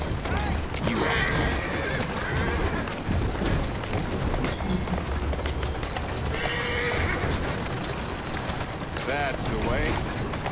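Horse neighing loudly several times over rapid clip-clopping hooves in Assassin's Creed Syndicate, with a steady rush of game ambience and a voice speaking over it.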